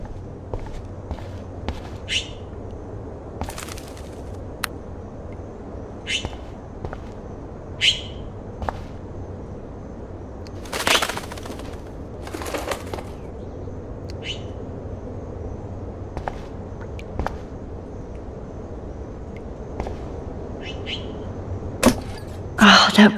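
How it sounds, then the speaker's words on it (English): In the video game Life Is Strange, a trapped bird gives scattered short chirps and bursts of wing flapping over a low room hum, with footstep-like knocks and a louder cluster near the end. "Oh no, that poor little bird has been trapped in here."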